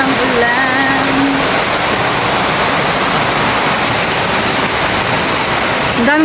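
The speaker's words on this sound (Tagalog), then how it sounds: "Ang lakas ng ulan." Heavy rain pours down steadily during the rainy season in Leyte, a dense, loud, unbroken roar of water, with a voice speaking briefly over it at the very start.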